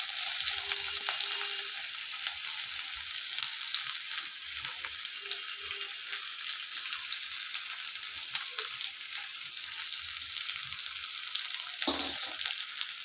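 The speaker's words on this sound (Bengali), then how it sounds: "এখন কিন্তু মেজারমেন্ট দিয়ে আমি এর মধ্যে এই পেঁয়াজ কুচিটা তুলে দিলাম।" Chopped onions fry in a pan for vegetarian ghugni, giving a steady close sizzle with a few faint clinks and low knocks and no talk.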